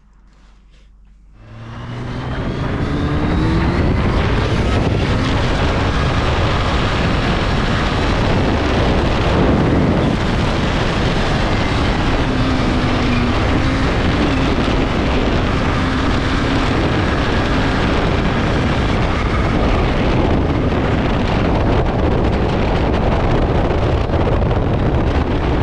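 A Kawasaki Ninja H2 motorcycle starts off and rides at speed, its engine note rising through gears beneath a steady, loud rush of wind buffeting the microphone.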